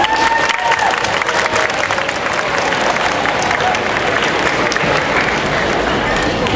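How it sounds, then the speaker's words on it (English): Sustained audience applause with cheering at a sixth grade spring concert, loud dense clapping that holds steady throughout, greeting a drummer. "give him a round of applause"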